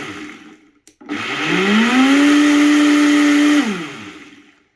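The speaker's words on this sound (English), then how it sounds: "let's blend it up. All right, so I'm going to set it on the highest setting. And then I'm going to actually just pulse it." Vitamix E320 Explorian blender on its highest setting pulsing frozen mango chunks and ice. After a short start, a loud motor whine rises in pitch, holds steady, then winds down. Close and loud, no talking.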